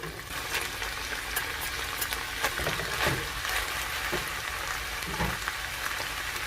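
Browned ground beef and chopped cabbage fry in a pan for Nebraska runzas, giving a constant dense sizzle and crackle. A few soft scraping clinks sit under it, and no one speaks.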